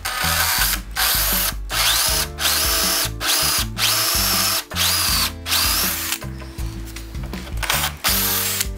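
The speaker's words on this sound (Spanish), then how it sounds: "Para eso vamos a usar una de estas brocas, creo que la de 25" A power drill with a 25 mm bit boring into wood, close and loud, running in repeated sustained bursts with brief pauses between them.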